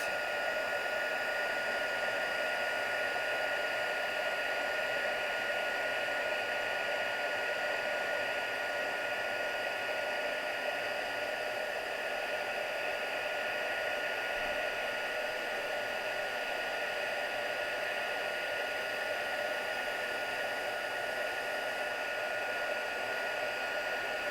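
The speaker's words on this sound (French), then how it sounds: "La poudre est en train de chauffer et l'or est en train d'apparaître sur mon motif." A heat embossing tool blows steadily while melting gold embossing powder on a handmade Christmas card, a continuous even whirring hiss lasting throughout with no voices.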